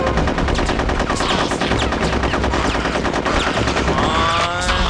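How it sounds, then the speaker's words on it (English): Rapid, continuous gunfire from Conker's Bad Fur Day, a dense rattle of machine-gun shots filling the whole stretch, loud and close with no talking. "I heard my gunshots first"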